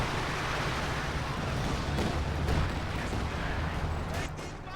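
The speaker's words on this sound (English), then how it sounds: "Got two-ship barrage running on in." Artillery barrage in Company of Heroes 2, a dense, rumbling wash of distant blasts rolling on steadily without letup, fading slightly at the end.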